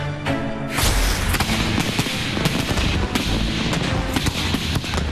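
A fireworks show in Bromont bursts loudly after a brief quiet opening, with dense overlapping bangs, crackles and booms rolling on continuously at close range.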